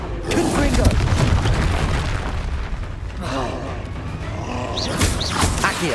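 The Confringo fire spell in Hogwarts Legacy goes off in heavy booming blasts during combat, a loud rumbling explosion layered with a shouted spell name and other battle noise.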